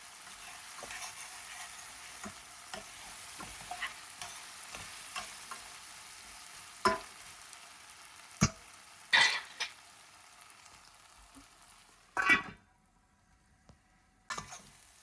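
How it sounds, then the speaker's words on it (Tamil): Potatoes roasting in a pan give a steady soft sizzle, broken by occasional sharp scrapes and clacks from a stirring spoon, with a louder cluster of scrapes near the end. "பொட்டேட்டோ நல்லா ரோஸ்ட் ஆகி வெந்துருச்சு"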